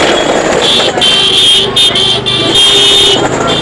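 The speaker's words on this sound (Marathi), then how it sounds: "थांब बेटा गाडी येते थांब" A motor vehicle approaches through a market square in the town of Khed. Its loud, steady engine and road noise fill the space, mixed with the din of surrounding traffic and a tonal, horn-like ring.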